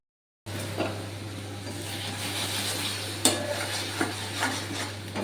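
Spice masala being stir-fried in a pan, with continuous sizzling and a low steady hum under it, broken by occasional clinks and scrapes of a utensil against the pan.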